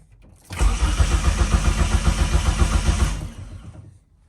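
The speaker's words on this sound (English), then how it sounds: "crank without the fuel pump" A car engine cranks with the fuel pump disabled during setup of a Haltech Elite 1500 ECU: a steady, loud, rhythmic starter-motor churn lasting about two and a half seconds without catching, then stopping.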